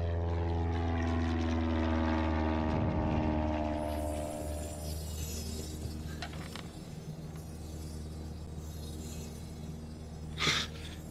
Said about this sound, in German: Nicht identifiziertes Flugzeug im Anflug auf Isla Sorna.